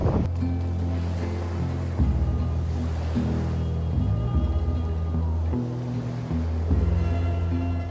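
Waves roll onto a beach in Sicily, a steady loud wash of surf with wind buffeting the microphone and a low rumbling throughout, surging in several swells without any voices.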